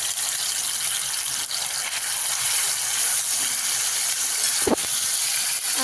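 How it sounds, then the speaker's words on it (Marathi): Finely chopped tomato and onion fry in oil in a pan over a medium flame, making a constant steamy hiss and sizzle with a single sharp knock near the end, with no talking. "आता आपण ही बारीक करून घेतलेलं टोमॅटो आणि कांदा टाकून घेऊया लाल होईपर्यंत ह्याला भाजून घेऊया"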